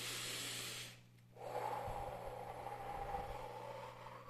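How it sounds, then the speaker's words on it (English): A deep breath drawn in and let out slowly as a calming breathing exercise, close and soft, with a steady hum and low rumble in the background. "And then deep breathing 3 times"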